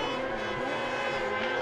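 Racing sidecar motorcycles at the Sachenring circuit during a World Championship race, a continuous high, droning engine whine held at full throttle, distant and steady, with faint commentary barely audible beneath.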